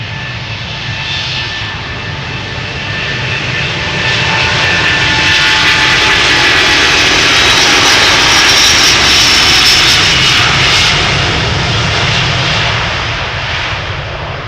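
A jet airliner departs from Amsterdam Schiphol Airport on a calm summer day, its engines roaring loud and steady, swelling to a peak midway and then easing slightly as it climbs away, with no voices.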